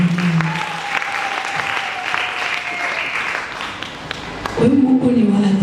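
Congregation clapping at a five-day gospel seminar led by an evangelist, a steady, loud, continuous wash of applause with a voice speaking over it and a brief lull before the clapping swells again at the end.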